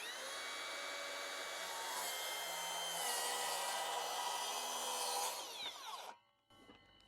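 A power saw cuts a board while guided along a speed square, a loud steady whining buzz for several seconds that winds down and stops, followed by a brief clunk, with no voices.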